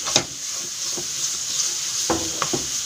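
Ground cumin, coriander and chili powder frying in hot oil give a steady close sizzle, with a few brief stirring scrapes and knocks from a utensil against the pan.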